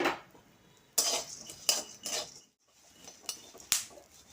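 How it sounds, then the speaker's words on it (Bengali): Dry melon seeds rattle and scrape in a pan as they're stirred while roasting, with sharp metallic clinks and scuffs coming in irregular bursts. "এখন চারমগজ ভেজে নেব"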